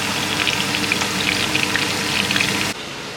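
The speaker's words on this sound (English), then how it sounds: "The onion is frying right now." Onion frying in a pan as the base for a stew, a steady close crackling sizzle with small popping bursts, which drops off abruptly near the end.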